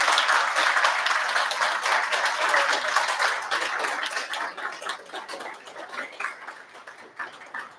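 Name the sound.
audience round of applause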